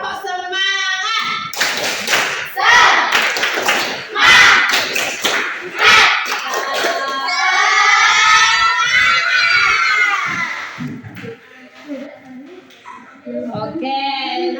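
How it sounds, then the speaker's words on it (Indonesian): Elementary schoolchildren in a sixth-grade class perform a rhythmic spirit clap, bursts of loud group clapping alternating with shouted chants, a sustained chorus of voices midway, and a teacher's voice near the end. "Tepuk semangat."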